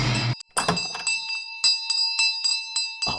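A bell tied around the neck of Sheru, a cartoon dog, rings in a quick series of bright clangs with a sustained shimmering tone, preceded and followed by a dull thump.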